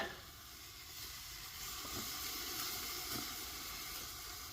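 Tri-tip searing on a small mini kamado grill, a steady close hiss and sizzle with faint crackles running through the whole stretch at an even level.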